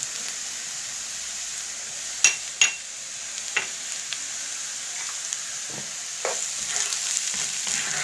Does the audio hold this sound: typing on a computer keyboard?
no